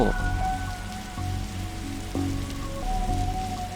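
Rain falls steadily in The Darkside Detective video game, a dense, constant patter with low background tones shifting underneath and no speech.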